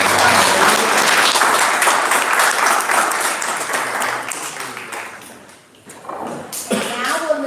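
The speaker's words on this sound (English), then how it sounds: "So again, one more round of applause for Nayeli, Guillermo, Angelina, Kelly, and" Audience applause at a school board meeting honoring students, strong sustained clapping from a crowd that gradually fades, followed by a few scattered claps and thumps as people settle and a voice begins.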